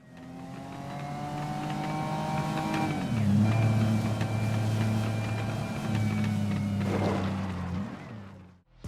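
Car engines roar in a driving video game, a loud sustained drone whose pitch holds, dips as gears shift, then climbs again, running continuously with no voices.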